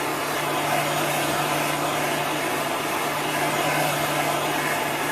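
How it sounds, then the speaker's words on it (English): A heat gun dries chalk paste on a painted surface, its loud constant blowing hiss filling the whole stretch without a break and with no talking. "You want to keep the heat gun moving at all times so you don't bubble the paint."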